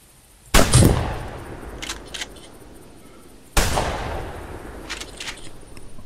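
Two sharp hunting rifle shots ring out in theHunter 2015, about three seconds apart, each a loud crack that trails off in a long echo, with faint smaller sounds between them.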